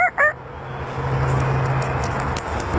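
A human voice imitates a rooster crowing: two short rising calls near the start, then a long sustained nasal note that holds for about two seconds, close and fairly loud.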